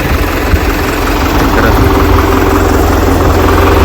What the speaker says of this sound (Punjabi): ਗੱਡੀਆਂ ਆ ਗਈਆਂ ਜਿਨ੍ਹਾਂ ਨੇ ਲੈਂਟਰ ਪਾਉਣਾ ਹੈ